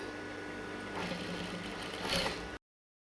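A domestic sewing machine runs in one steady continuous stretch while stitching the side seam of a chudidar sleeve, close and even, with a brief rise in pace near the end before it stops.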